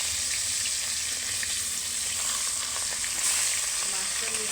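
Pieces of rohu fish frying in hot oil in a pan, a dense, bright, continuous sizzle holding steady throughout, close and unbroken, with no talking.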